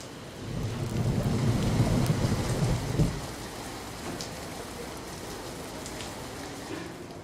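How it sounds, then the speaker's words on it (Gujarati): Heavy rain in Valsad, Gujarat, hisses continuously while a low rumble of thunder rolls through the first few seconds, then the downpour carries on alone. "વલસાડમાં ભારે વરસાદ છે"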